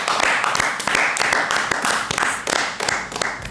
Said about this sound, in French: je vais demander sur ce plateau d'applaudir les 2 guerrières qui sont là